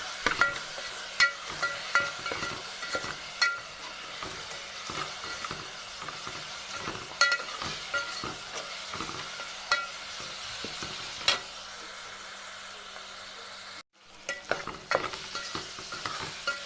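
Onion, green chilli, garlic, turmeric and salt frying together in a pan while being stirred, a steady soft sizzle broken by regular scraping and clinking of the spoon, with a brief cut near the end.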